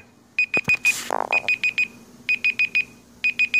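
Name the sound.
Google Pixel phone timer alarm ringing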